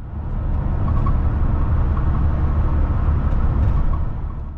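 Inside a bus cruising the M621 motorway after leaving Leeds bus station, a loud steady low engine and road rumble runs unbroken with no talk.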